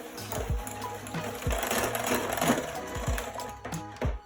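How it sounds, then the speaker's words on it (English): An electric whisk whirs while mixing eggs and sugar for a cast iron skillet brownie, a steady close motor buzz with rhythmic knocks against the bowl, fairly quiet and without talk. "I'm using an electric whisk."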